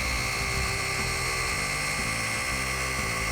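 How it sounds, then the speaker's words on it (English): A Flex 3401 dual-action polisher buffs car paint, a continuous whirring mechanical drone with faint rhythmic fluctuations, steady and close throughout. "The Flex 3401 cuts through swirls and scratches in half the time of other DA polishers."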